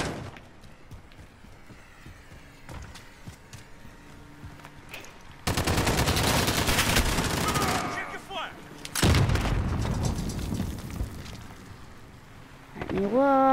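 Light machine gun fire in a first-person shooter game, two loud sustained bursts of rapid automatic shots separated by a short pause, with other game sounds and faint effects in between.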